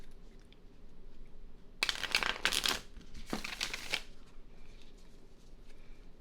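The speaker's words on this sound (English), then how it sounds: "That was the ASMR portion of the shuffle." Two crisp bursts of a thick tarot deck being riffled and shuffled, close and papery, separated by a short pause in a quiet room.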